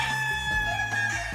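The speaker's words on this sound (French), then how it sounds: "c'est le chant du coq" A rooster crows as a sound cue on a French game show where contestants pick numbered golden eggs, one drawn-out call with a steady pitched tone under faint studio ambience.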